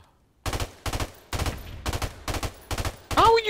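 Rapid bursts of M16 rifle fire in a first-person shooter video game, about seven short loud volleys in quick succession, close and punchy, with a brief electronic game tone at the end.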